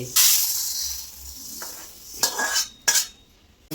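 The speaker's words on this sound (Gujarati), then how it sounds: "તાવેતાથી હલાવતા રહેવાનું" Spatula scraping and stirring roasted coriander seeds in a pan, a soft continuous rustle broken by a few sharp metallic scrapes and clinks near the end, close and moderately loud.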